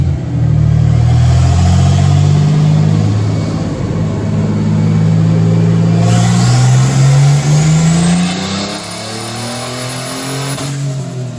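A turbocharged 4.3 V6 drift truck at 12 psi boost revs hard on a dyno, its loud, steady engine drone climbing in pitch through a long pull, with a faint turbo whistle rising near the end.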